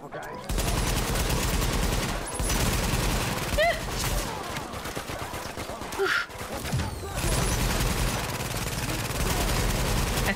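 Rapid automatic gunfire and repeated shots from the video game The Division, loud and nearly continuous over ten seconds with brief gaps, aimed at a turret during a tense firefight, with players talking over the shooting.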